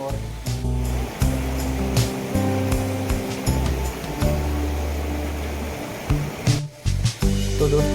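Pawa waterfall near Shivpuri, dropping about 100 feet into a pool in green forest, gives a steady, loud broadband rush of falling water throughout, with musical tones running underneath.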